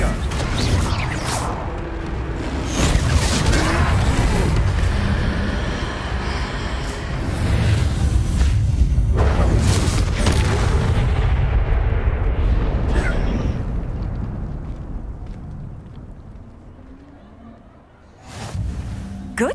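A Confringo fire blast spell bursts in Hogwarts Legacy during a troll fight, a loud roaring explosion with rumbling debris that sustains for many seconds before fading, with a brief spoken word over it.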